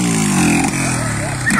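A Fan 125 motorcycle from 2008 or 2009 races in a street drag, its engine droning loud and close with a rising, buzzing pitch, while someone talks excitedly over it.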